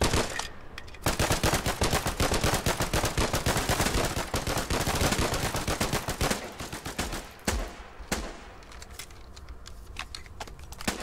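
Gunfire from the Foxhole video game, with dense bursts of rapid automatic shots and single cracks firing almost without a break, loud and close, easing into scattered shots near the end.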